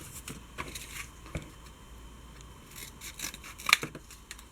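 Scissors make several short, faint snips while cutting paper for a paper doll stand. The cuts are spaced out, with one sharper snip near the end and no speech.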